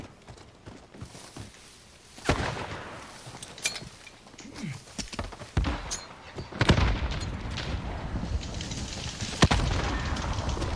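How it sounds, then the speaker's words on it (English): A grenade goes off in a video game amid a noisy battle, with several sharp booming blasts spaced a few seconds apart over rumbling background action. "I might throw my grenade first"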